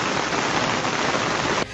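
Heavy rain pounding a residential street in Carmo de Minas, Brazil, as floodwater runs along it: a dense, loud, roaring wash of drops that cuts off abruptly near the end.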